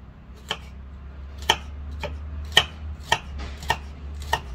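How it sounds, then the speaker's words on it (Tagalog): A knife slices garlic cloves on a cutting board for homemade chicken curry, giving about eight crisp, evenly spaced chops at a steady half-second rhythm over a low background hum. "Ito pong garlic, i-slice lang."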